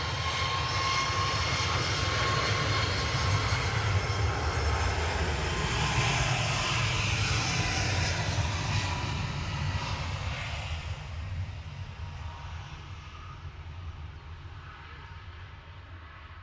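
A TUI Boeing 737 MAX 8 jet on its takeoff roll at Manchester Airport produces a loud, steady engine roar and rumble that slowly fades with distance toward the end.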